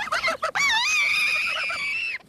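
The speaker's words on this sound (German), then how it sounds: "Die Gänse kommen!" Geese being brought to a city farm give a loud, close, drawn-out honking call lasting over a second, preceded by a few short squawks.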